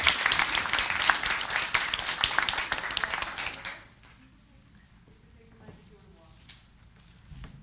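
A leadership council meeting audience gives a round of applause, with dense clapping for about four seconds before it stops abruptly, followed by quiet room tone and faint talk.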